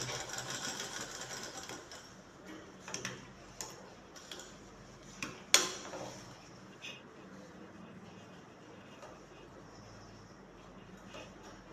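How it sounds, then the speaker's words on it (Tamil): A sewing machine stitches around the edge of a shirt pocket with a soft, steady ticking run and a few sharper clicks and thumps near the start, fairly quiet and without talk. "பாக்கெட்டை சுற்றி ஓரமாக தைக்கிறோம்"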